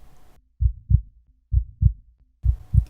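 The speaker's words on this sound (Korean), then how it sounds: "안긴 품에서 쿵쿵 그의 심장 소리가 거칠게 뛰고 있다." A heartbeat sound effect in a Korean romance audio drama: three pairs of deep, muffled lub-dub thumps in a steady rhythm, close and prominent over a faint hiss.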